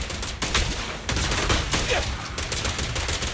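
Rapid repeated gunfire in Zenless Zone Zero, loud bursts of shots firing in quick succession across the whole stretch, close and dense, with no voices.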